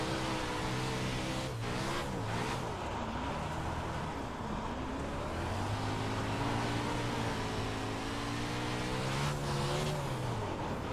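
A dirt race car engine in the video game iRacing at the Lucas Oil track, droning steadily and rising and falling in pitch as the car accelerates and lifts, loud and continuous.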